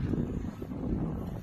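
Strong wind buffets the microphone during a road bike ride on a cycling lane in Qatar, a steady low, rough roar that fills the whole moment without pause.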